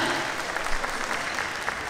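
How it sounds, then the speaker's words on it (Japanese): Steady applause from an audience at a YOSAKOI Soran dance event, a dense even patter of many hands clapping throughout, fairly loud and continuous. "大きな拍手をお願いいたします"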